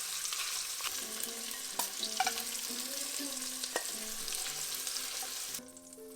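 Kielbasa sausages browning in a pan, a steady close sizzle with occasional stirring clicks and scrapes that drops abruptly quieter near the end.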